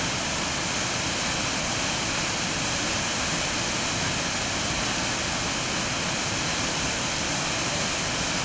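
Kisiizi waterfall in Uganda pours in a dense, unbroken roar of falling water, a loud, steady broadband rush that holds level throughout with no voices.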